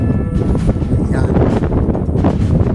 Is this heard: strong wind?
yes